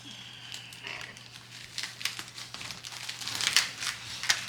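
Plastic wrap and polyfill crinkle as a plant's roots are packed for air travel, a close run of rustling crackles that gets louder toward the end, with no talking.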